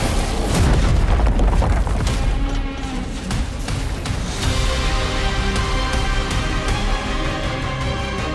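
A bomb detonates amid the battle of a Warhammer 40,000: Space Marine 2 trailer, a dense, continuous wall of deep booms and crashing rumble that stays loud and heavy with no pauses.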